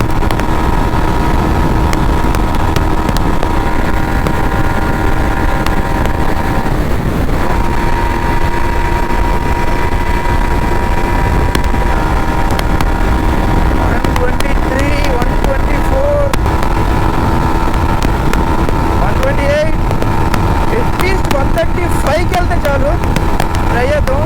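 A motorcycle runs at top speed on the highway between Vijayawada and Hyderabad, with a constant loud engine and wind roar throughout while a rider talks over it.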